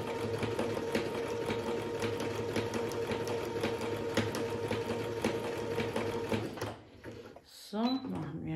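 Brother Super Ace SE 947 sewing machine stitching a triple zigzag, steady rapid mechanical whirring and needle clatter that stops near the end, followed by a few clicks and handling noises.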